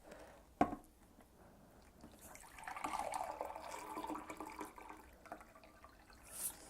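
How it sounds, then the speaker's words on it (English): Boiling water poured into a container to make gelatin ballistic gel, a soft splashing pour that builds gently after a sharp knock and trails off, quiet and close. "Right, so I'm going to pour it in first."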